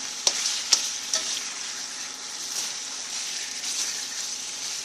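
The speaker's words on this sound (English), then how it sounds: "Now make sure to flip your beef often." Beef frying in a stir-fry pan, a steady close sizzle with a few sharp clattering knocks from flipping early on, no talking.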